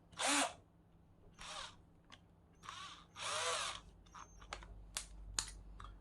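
A small power drill with a 3.5 bit bores holes in a tiny ukulele headstock, heard as several short whirring bursts of varied length close by, mixed with light clicks and handling noises.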